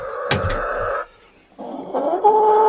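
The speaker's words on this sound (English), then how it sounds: "These are the chickens that are hurt." Hens in a heated farm coop cluck and squawk up close, a sharp call followed by a brief pause, then a run of rising clucks and cackles.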